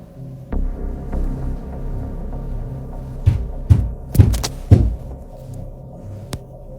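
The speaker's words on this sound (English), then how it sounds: "3 loud knocks can be heard on her bedroom wall" Three loud knocks on a bedroom wall at night, sharp heavy thuds in a tight cluster after a low hum, with a fainter knock a moment later.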